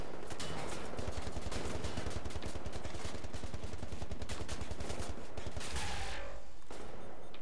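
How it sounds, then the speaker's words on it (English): Rapid automatic gunfire in Wolfenstein: The New Order rattles on as a dense, steady burst for several seconds, loud and close, then breaks off near the end. "Why are you still shooting at me?"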